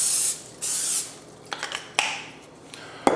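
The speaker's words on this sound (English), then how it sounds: "we're going to spray that with some cooking spray" Cooking spray hisses onto a 9 by 13 inch baking dish in several short aerosol bursts, close and fairly loud, with light clicks and rubbing between sprays.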